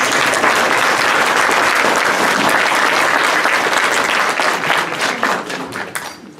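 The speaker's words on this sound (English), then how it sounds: "Let's give her a round of applause." A lecture-hall audience gives a sustained round of applause after a presentation, dense steady clapping that holds strong for several seconds and then gradually thins and fades toward the end.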